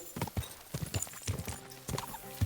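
Horse hooves clip-clop in a video game, a steady rhythmic run of close hoofbeats with a faint whinny-like tone blended in.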